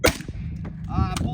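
A single sharp, loud gunshot from a Palmetto State Armory AK-47 rifle fired outdoors, followed by a short echo and a brief voice.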